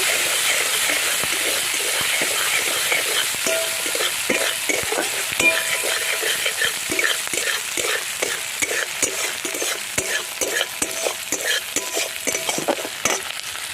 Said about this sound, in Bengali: পরিমাণ মতো নুন দিয়ে দেব ভালো করে কষিয়ে নেব